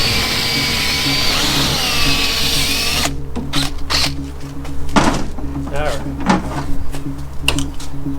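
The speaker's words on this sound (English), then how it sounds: "I'm going to drill out every one of these rivets" A power drill bores out rivets in the body of a Unimog U1300L/37 fire truck, a loud close whine for about three seconds, then clattering, knocks and scraping as people talk over the work.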